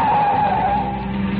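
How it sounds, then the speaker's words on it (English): Car brakes and tires screech in a sustained, loud squeal as the car takes a wild curve in a 1946 radio drama, heard alone with no voices. "In my ears was the screeching of brakes, of tires taking a wild curve."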